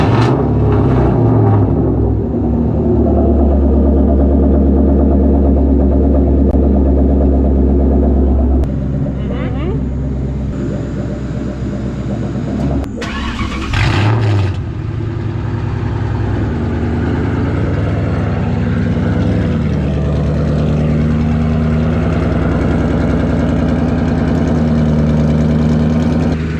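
A car engine idles with a steady, loud low rumble and slight revs at a summer car meet, with people talking close by over the running motor.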